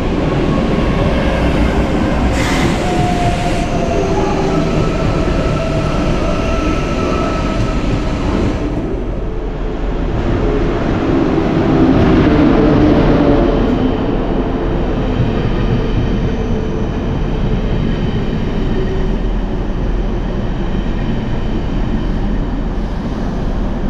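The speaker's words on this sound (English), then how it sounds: "now we can take a look at the train traffic and the arrival of my train here in Würzburg" An ICE 2 train rolls into Würzburg main station with a loud, steady rumble of wheels and carriages. A soft clickety-clack runs throughout, and the noise swells slightly midway.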